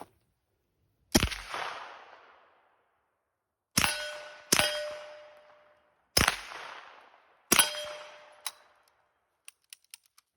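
Several sharp, loud Uzi submachine gun shots ring out one at a time with long pauses between them, each crack followed by a ringing decay at an outdoor range. A few faint clicks come at the end.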